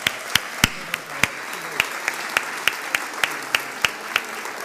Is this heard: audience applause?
yes